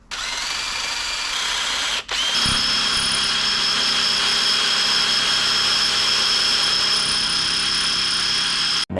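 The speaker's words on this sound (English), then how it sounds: "I can now freely drill here so I don't mess that up." A power drill whines loudly and continuously on a Suzuki Carry engine during an F6A turbo swap, briefly stopping near the start before spinning up again at a steady high pitch.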